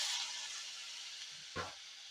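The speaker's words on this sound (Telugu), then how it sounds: "ఈ ఉల్లిపాయ ముక్కలు కొంచెం నిదానంగా వేగుతాయండి" Onion pieces and green chillies frying slowly in a pan for an egg tomato masala curry, a soft steady sizzle with a brief stir or clatter near the end.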